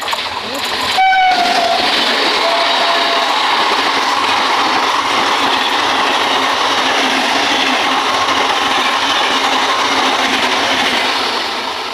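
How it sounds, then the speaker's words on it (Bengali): Lalgola train rumbling past on the rail line in rainy weather, a short horn blast near the start, then a steady loud roar of wheels and carriages lasting throughout. "এটা হচ্ছে লালগোলার ট্রেন"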